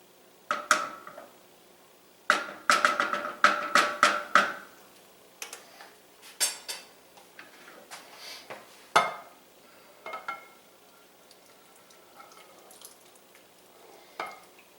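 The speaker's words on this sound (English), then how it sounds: "let's give it a quick stir" A spoon scrapes and clinks through gratin potatoes in a baking dish, a series of sharp clicks and scrapes in irregular bursts, with quieter taps spaced out toward the end.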